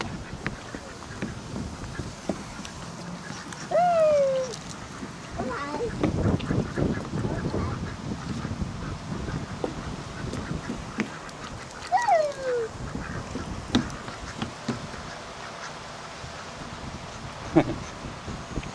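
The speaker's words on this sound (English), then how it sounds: "Duck. There's a duck." Ducks call outdoors in two brief honking, quacking bursts a few seconds apart, nearby but not loud, over steady background noise with some movement and faint activity around them.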